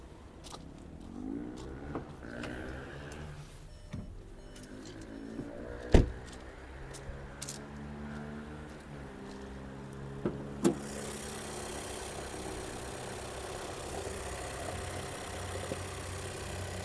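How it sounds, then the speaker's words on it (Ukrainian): A 2021 Skoda Karoq engine idles steadily with a low, even rumble, broken by a couple of brief clicks and knocks midway. "Двигун працює без зауважень, демпфер не стукає."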